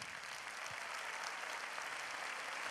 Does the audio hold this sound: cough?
no